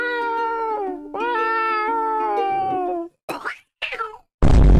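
A person imitates a cat, drawing out two long meows followed by a few short, squeaky mews and an abrupt burst of noise at the end.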